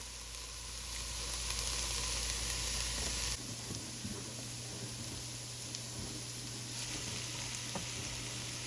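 Green peppers, celery and onions frying in a pan for keto Cajun dirty rice, giving a steady soft sizzle with faint crackles and an occasional stir, close but fairly quiet, no talking.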